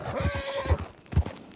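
In Red Dead Redemption 2, a horse lets out a brief whinny followed by a couple of dull hoof thuds, close and clear, with no speech.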